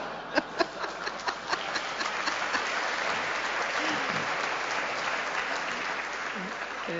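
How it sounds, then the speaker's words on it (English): An audience breaks into applause, a few sharp separate claps at first that swell into a sustained, even wash of clapping from a sizeable crowd, heard at moderate distance. "Interesting that you would applaud that."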